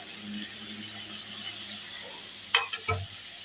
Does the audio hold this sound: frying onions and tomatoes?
yes